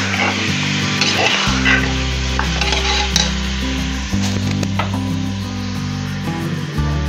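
Chicken for biryani sizzles in a pan while a spoon stirs and scrapes through it, close and loud, with occasional utensil knocks over a steady low hum.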